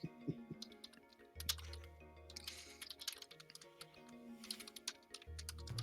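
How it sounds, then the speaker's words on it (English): Clacky typing on a computer keyboard during an online Dungeons & Dragons session, a steady patter of quick close key strikes running for several seconds under a faint background hum. "Are these clacky noises you typing at the poll?"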